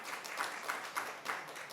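Audience clapping at a city council meeting, faint and distant, a loose scattered patter of hands with a few louder claps standing out.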